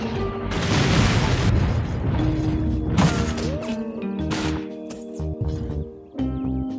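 Bazooka fire in the World War II strategy game Faces of War: heavy booming blasts and thuds over a busy battle bed, with one big hit near the start and several sharper bursts following.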